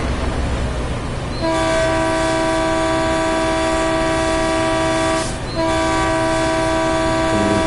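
A train horn blares loud and sustained in Train Sim World 2020, a steady multi-tone chord with a brief break before it resumes, over the low rumble of a passing train.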